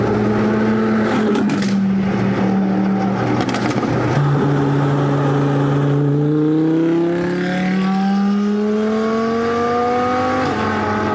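Audi R8 fitted with a QuickSilver exhaust, loud and close, holding a steady deep drone and then climbing through rising gear pulls as the car accelerates away.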